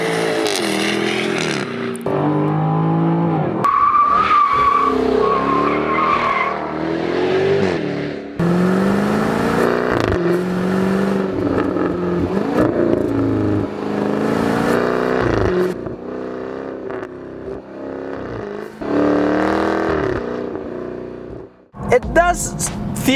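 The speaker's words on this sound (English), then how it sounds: "So to enjoy this symphony, I offer you a moment of silence to listen to the mighty V8 roar once again" A 2021 Jaguar F-Type P450 with a supercharged V8 roars loudly through repeated revs and accelerations, its engine note rising and falling continuously as the car is driven hard.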